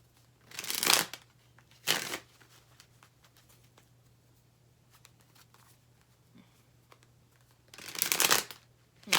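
Tarot cards shuffled and pulled from a deck, with three bursts of papery riffling at the start, shortly after, and again near the end, separated by quiet stretches with faint handling.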